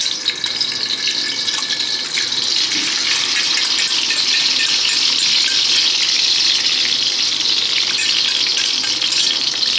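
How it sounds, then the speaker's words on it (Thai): Cha-om (acacia leaves) fry in a wok of oil that is not yet hot, giving a loud, steady, close hiss and crackle that runs unbroken throughout with no talk. "หลังจากนั้นก็ตามด้วยชะอมเลยครับ เราจะทอด ตอนที่น้ำมันยังไม่เดือดนะครับ"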